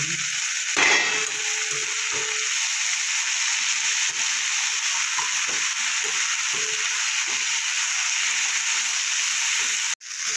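Steady hiss of radish greens frying in a hot pan, with occasional soft stirring clicks and a brief clatter near the start.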